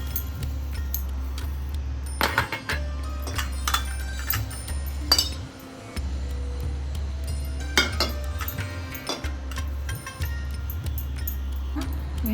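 Metal idli steamer plates clink and clatter as they are oiled and handled, with repeated sharp metallic taps and jangles close by over a steady low hum, no talking.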